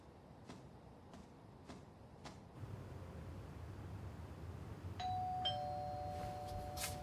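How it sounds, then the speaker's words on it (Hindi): A doorbell chimes twice near the end, clear tones ringing over a steady hiss, after a few faint clicks earlier. "आपको इस वक्त डोरबेल नहीं बजानी चाहिए थी।"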